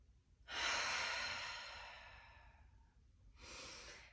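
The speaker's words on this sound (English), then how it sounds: "taking a deep breath" A deep breath during a yoga flow, drawn in as a long, close whooshing inhale lasting about two and a half seconds, followed after a brief pause by the start of a second breath.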